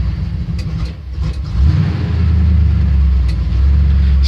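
A cold 1978 Chevy C10 pickup engine settles into a steady, close, deep idle after a brief surge, rumbling evenly without letting up.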